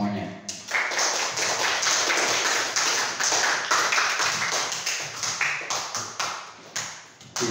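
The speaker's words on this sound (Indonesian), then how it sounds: "Tepuk tangan dulu semuanya" Whole classroom bursting into clapping together, a dense, steady patter of many hands that stays loud for several seconds, then thins into scattered claps near the end.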